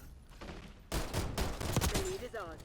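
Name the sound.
akimbo GS45 guns firing in a video game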